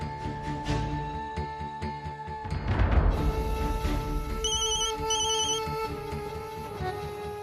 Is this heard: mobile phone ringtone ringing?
yes